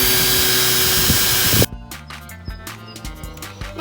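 Power tool driving screws into wood while building a homemade exercise bike, a loud continuous whirring burst that cuts off abruptly, followed by scattered clicks and knocks.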